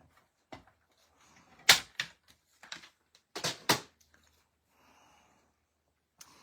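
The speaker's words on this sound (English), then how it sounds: "I'll bring my trimmer and trim this down." A paper trimmer slicing down through paper for a handmade book, heard as several sharp close cuts and clacks in two short bursts, with a quiet pause between them and one last faint click at the end.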